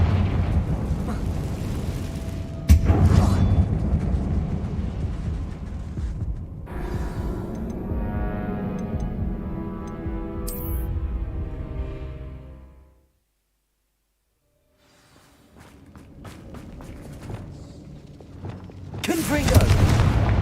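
Fiery Confringo spell blasts in Hogwarts Legacy, cast inside a closed-off mine that resembles a tomb: a sharp burst opens a long rumbling stretch of crackling blasts, then a pause of near silence and a final loud blast.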